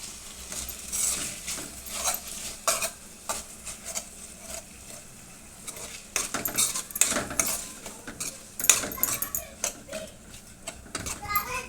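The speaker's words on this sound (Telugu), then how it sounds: "ఇక అన్నీ వేసేసి కలిపిస్తున్నానండి" Potato gravy stirred in a metal pan, with spoon scrapes and clinks of utensils against the pan recurring unevenly, while voices, including a child's, talk in the background.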